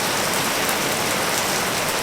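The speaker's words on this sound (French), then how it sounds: "mais il pleut." Steady rain falling, a dense even hiss with no breaks, fairly loud and close.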